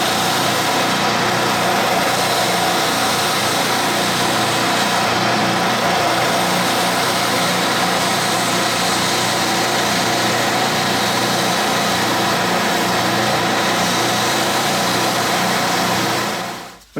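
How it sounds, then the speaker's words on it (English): Oscillating drum sander cleaning up drilled holes in a caged golf ball: a steady, close, loud motor whine with rough sanding noise running unbroken for about sixteen seconds, then cutting off abruptly. "I'll do the rest at the oscillating drum sander"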